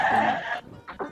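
Garut sheep bleat loudly and close by, one long wavering call followed by two shorter bleats after a brief pause, with no talking.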